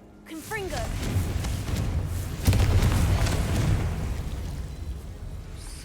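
Confringo fire spell blasts in Hogwarts Legacy, a loud booming explosion that swells about halfway through and rumbles on under a dense wash of game sound, with a voice heard calling out beforehand.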